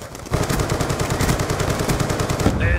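Rapid automatic gunfire from Call of Duty: Black Ops, a dense, continuous burst of machine-gun shots firing close and loud for nearly the whole stretch after a brief quieter opening.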